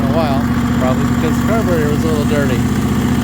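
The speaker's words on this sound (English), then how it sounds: "Okay, so it's running. It's idling pretty nicely." An Ingersoll garden tractor with a freshly cleaned carburetor idles steadily close by, a low constant drone running beneath a voice.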